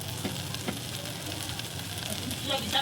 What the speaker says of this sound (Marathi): असं याला थोडं तेलामध्ये फ्राय करायचं चांगलं